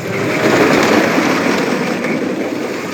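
A steady, loud rumbling roar of the El Toro wooden roller coaster train at Six Flags Great Adventure running on its track, constant throughout with no talking.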